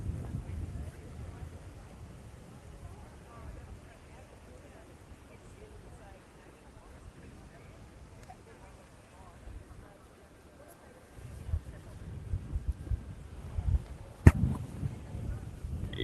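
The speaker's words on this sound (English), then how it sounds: "it's just way too breezy" Gusty wind buffets a microphone outdoors at a street march in Sydney, a low rumbling roar that stays soft for a while, then swells into louder, choppy gusts near the end with a sharp knock.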